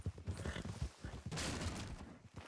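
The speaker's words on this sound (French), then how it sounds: "ça tire carrément." Video game gunfire in a Western sheriff shootout: scattered sharp reports swell into a dense, loud burst in the middle, with voices talking over the shots.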